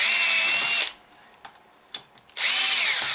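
A power tool loosens bolts on the body of a Carson CY vehicle, making two loud whirring bursts separated by a short pause with faint clicks.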